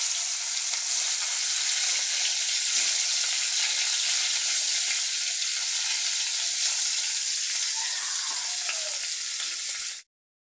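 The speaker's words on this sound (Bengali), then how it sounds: "তেল গরম হয়ে গেছে, এবার মাছগুলো আমি ছেড়ে দিচ্ছি।" Falui fish, coated in a turmeric mix, hisses in hot oil with a loud, steady, crackling sizzle that holds for about ten seconds and then stops abruptly.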